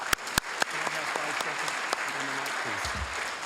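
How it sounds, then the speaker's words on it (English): Steady applause from an audience at a volunteer awards ceremony fills the clip, dense clapping throughout with a few sharper claps near the start and a brief voice underneath. "Please give a round of applause to Robert."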